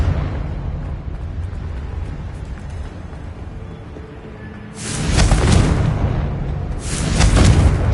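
Two heavy magical fire-spell explosions from the Confringo curse in Hogwarts Legacy, deep booming blasts with broad crackling bursts at about five and seven seconds over a steady low game rumble.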